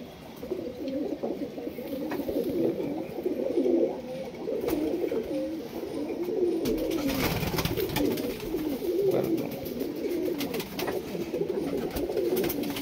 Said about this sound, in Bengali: তো এই যে এটা নর পায়রা